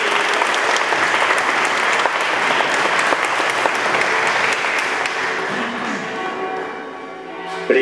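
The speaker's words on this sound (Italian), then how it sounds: "Facciamo un applauso a Don Gabriele" Congregation applauding Don Gabriele inside a church during a Communion Mass, sustained dense clapping from many hands that echoes in the space and gradually thins toward the end, with a few thumps.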